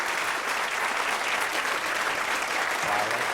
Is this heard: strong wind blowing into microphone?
no